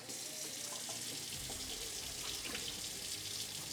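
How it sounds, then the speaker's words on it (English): Cold tap water runs steadily over rice being rinsed in a kitchen, a continuous, even splashing hiss at low volume with no pauses. "you have to rinse the rice"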